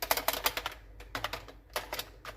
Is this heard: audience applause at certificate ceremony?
no